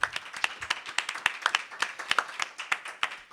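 A small studio audience applauds at the opening of a Catalan talk show, producing sparse, distinct individual claps at a fairly quiet, steady level.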